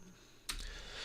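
A single brief click or tap on a computer keyboard during a Git terminal session, faint and heard alone.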